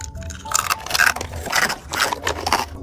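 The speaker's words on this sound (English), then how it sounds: "Chewing this is rattling my skull around in my brain." Crunchy roast beef flavor Slavic snack chips are chewed close to the microphone, with a series of loud, irregular crunching bites following one another.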